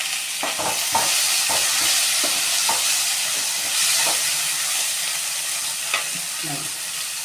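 Tomato and golden-browned onion sautéing in a pan, a loud continuous sizzle with repeated scraping strokes of a spatula stirring through it.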